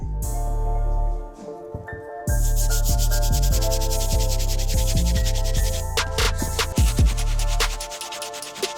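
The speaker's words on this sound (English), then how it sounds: "We'll use this brush to hit the entire white leather on the shoe." A medium all-purpose brush scrubs the white leather of an Air Jordan shoe, making dense, close, bristly rubbing strokes in an irregular rhythm that continue through the whole stretch, with no talk.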